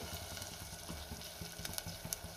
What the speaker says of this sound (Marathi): ज्या पद्धतीने आपण बुर्जी करतो अगदी तसंच आपल्याला व्यवस्थित मिक्स करून अंड पूर्णपणे ड्राय होईपर्यंत असं परतून घ्यायचे